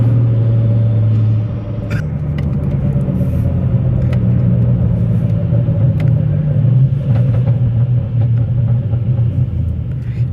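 A BMW E90 with the N55 engine and a BMS intake revs with a loud, steady low rumble, its pitch rising and falling through several swells over about ten seconds, heard close with no talking.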